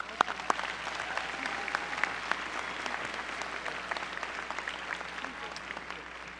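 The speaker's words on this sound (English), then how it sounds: "I'd like the graduates to take a minute and give them a nice round of applause." Applause for the graduates at a Philadelphia University undergraduate commencement, a dense, sustained patter of many hands echoing through a large hall, fairly distant with a few sharper claps up front.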